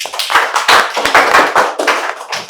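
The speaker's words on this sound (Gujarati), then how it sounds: "કામરાન માટે તાળી પાડો" A group of children and adults applauds for a child named Kamran at a children's project event, a close burst of uneven hand claps rising and falling in patches over a couple of seconds.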